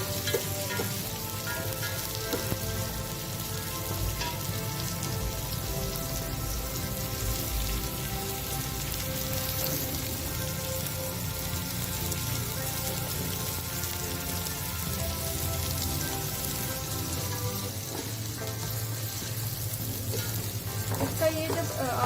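Capsicum and other vegetables fry in a pan, giving a dense, steady sizzle that runs close and unbroken for the whole stretch with no talking.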